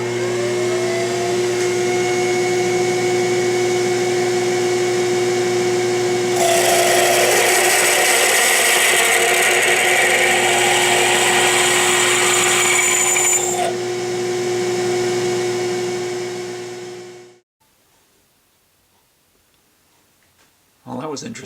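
A loud, steady machine whine as a jobber drill bit bores into metal, with a harsher grinding burst in the middle, then the motor winds down and stops, leaving near silence.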